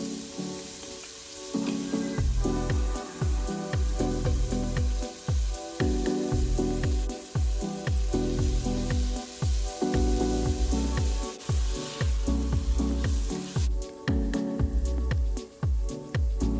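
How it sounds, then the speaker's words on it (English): Ingredients for pasta e fagioli soup frying in oil in a pot, a loud, close, crackling sizzle broken by regular rhythmic scraping and stirring strokes throughout, without talking. "Once it starts sizzling, you can add all the rest."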